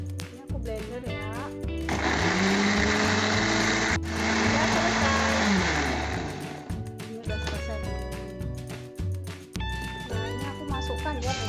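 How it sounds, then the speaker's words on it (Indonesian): An electric blender whirs steadily for several seconds as it purees chopped spices with water, surrounded by continuous background music. "Tambahin air, ini aku blender ya."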